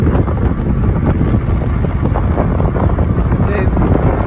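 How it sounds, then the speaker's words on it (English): Steady wind buffets the microphone while riding an Ecotric fat tire e-bike on a windy spring day, a loud continuous rumbling roar throughout, close and unbroken. "But really windy today."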